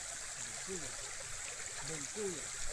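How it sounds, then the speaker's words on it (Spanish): A small river, the Boncuya in the Aguaitía region, flows steadily in the background as a continuous outdoor wash of water, with people talking over it. "tenemos de fondo un pequeño río"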